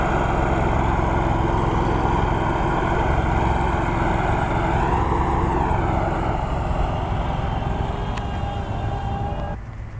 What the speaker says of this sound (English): he's over here vertical mowing right now